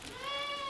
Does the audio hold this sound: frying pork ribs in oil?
no